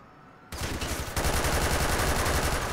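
MP5 submachine gun fire in the LCPDFR police mod for a video game, starting after a quiet half second as a loud rapid burst, then dense continuous automatic fire to the end.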